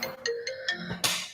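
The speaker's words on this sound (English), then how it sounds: "my phone's going to my sister's FaceTiming me" Smartphone ringing with an incoming FaceTime call, a short melodic ringtone of repeated bright tones sounding close and clear with no talk over it.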